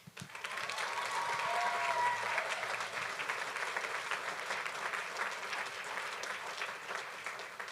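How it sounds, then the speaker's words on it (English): Audience at a university speech showcase applauds its finalists, a dense steady wash of clapping from a sizable crowd that holds throughout. "if you guys can give them one more round of applause as we do so, I'd appreciate it"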